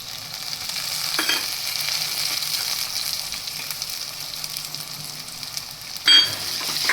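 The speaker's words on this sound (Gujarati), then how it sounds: "હવે આપણી ડુંગળી ચડી ગઈ છે તો આપણે તેમાં ટમેટું એડ કરી દઈશું" Chopped onions sizzle steadily in a pan as tomato is added for Gujarati kaju gathiya shaak, with a couple of sharp stirring scrapes over the continuous close frying hiss.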